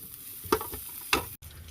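Garlic and chilli stir-frying in a hot pan, a constant sizzle with two bursts of scraping as the pan is tossed or stirred, then a sudden brief cut to near silence.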